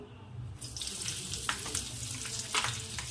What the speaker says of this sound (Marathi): आता आपण मिरची ॲड करून तळून घेऊ